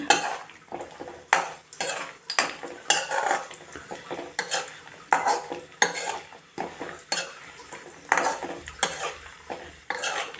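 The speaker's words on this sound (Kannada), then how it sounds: "ನಾನಿಲ್ಲೆಲ್ಲ ಸ್ವಲ್ಪ ಲೈಟಾಗಿ ಫ್ರೈ ಮಾಡ್ತಾಯಿದ್ದೀನಿ, ಇವೆಲ್ಲ ಹುರ್ಕೊಳ್ತಾ ಇದ್ದೀನಿ. ತುಪ್ಪದಲ್ಲಿ" Carrot halva ingredients being lightly fried and stirred in ghee in a pan, giving repeated scraping and clinking strokes with a soft sizzle underneath, steady and close throughout with no voices.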